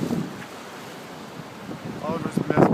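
Wind roars and choppy water churns on the Hudson River during Hurricane Sandy, a steady rushing wash with gusts swelling louder toward the end.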